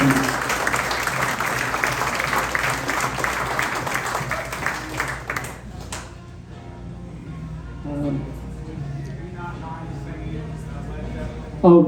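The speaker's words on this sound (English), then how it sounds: "another round of applause for Linda Matthews" A luncheon audience of retired airline staff applauds Linda Matthews in a moderate burst of clapping that fades out halfway, leaving a quiet room with light murmuring and a brief voice.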